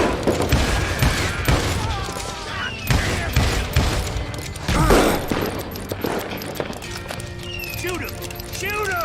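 Gunfire in the Western shooter game Call of Juarez: Gunslinger, with several sharp shots and bursts amid horse hooves and game sound effects, under loud excited talk throughout.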